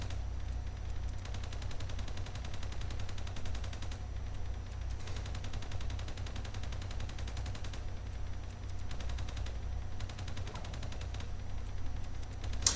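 Sustained automatic gunfire sprays an opponent in Fortnite, a dense, steady rattle of rapid shots lasting many seconds, loud and continuous with brief lulls between bursts.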